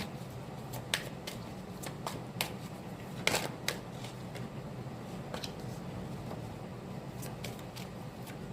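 Oracle cards shuffled by hand nearby, a quiet continuous papery shuffle broken by crisp clicks and taps, with no voices over it.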